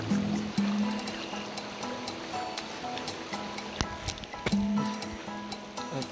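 A small river stream flows steadily in an outdoor setting, a constant watery rush with occasional knocks and splashes, no talking.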